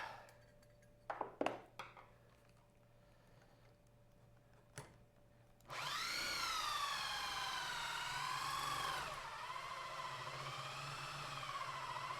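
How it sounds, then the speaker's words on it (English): An electric drill bores holes while a Pop'n Music game controller is being built. A few sharp clicks give way to a loud, steady motor whine whose pitch wavers up and down for about six seconds, then eases slightly. No one speaks. "This drill is getting hot too"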